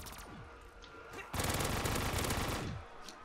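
Automatic gunfire from a weapon in Black Ops 3 Custom Zombies: a few scattered shots, then a sustained loud, rapid burst of close machine-gun fire lasting over a second before it stops.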